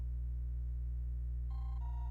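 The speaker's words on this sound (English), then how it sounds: "my phone's ringing" A mobile phone ringtone chimes faintly over a steady low hum, a short two-tone electronic melody entering near the end.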